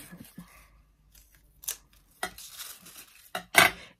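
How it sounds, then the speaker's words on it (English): Scissors snip through a sheet of paper, cutting it in half for a handmade paper poppy; a few sharp, separate crunchy cuts with quiet gaps between them, the last one loudest and close by. "We'll cut this in half."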